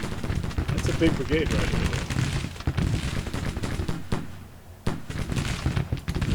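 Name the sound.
musket gunfire from video game Grand Tactician: Civil War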